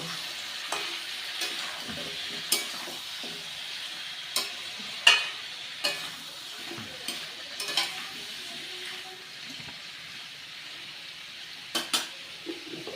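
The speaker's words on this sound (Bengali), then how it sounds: "ধনে গুঁড়ো জিরে গুঁড়ো এবার আমি সমস্ত কিছু খুব ভালো করে কষিয়ে নেব" Coriander and cumin powder fry with turmeric in a pan for a dish of rohu fish oil, fish head and Malabar spinach, with a quiet sizzle and sharp intermittent clinks of a spatula against the metal pan.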